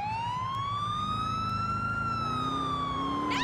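Police car siren in the video game GTA IV, a loud, continuous wail that slowly rises and falls in pitch, playing alone over a low engine hum.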